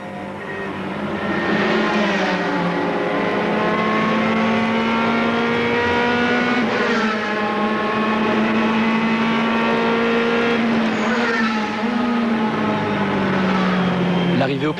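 GT race cars at the 2006 Spa 24 Hours, with a Porsche braking, give a loud, continuous engine howl from close by. The pitch rises and drops sharply several times as the car shifts and brakes.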